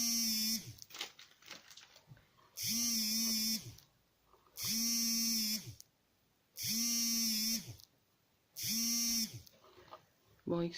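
A mobile phone vibrates against a surface in four long buzzing bursts of about two seconds each, separated by short pauses, fairly close and loud, with no talking.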